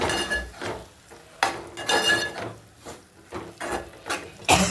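A spoon scrapes and clinks against a pan as tomatoes and dry prawns are stirred, several distinct strokes in an uneven rhythm, close up with no talking.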